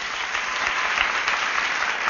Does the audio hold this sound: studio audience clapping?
yes